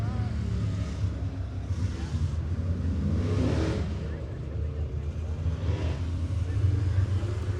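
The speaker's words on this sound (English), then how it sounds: "that CVR race car number 10B, that'll be Bradley Llewellyn" Crate late model race cars on the track at 411 Motor Speedway during qualifying, a continuous engine roar that swells and fades as cars pass, heard under a race announcer's commentary.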